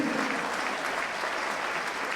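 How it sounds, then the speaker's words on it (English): Steady applause from a football stadium crowd for a substituted player at a Wrexham v Gateshead match, sustained and distant-sounding across the whole moment. "he deserves the applause that's ringing around John Nolan."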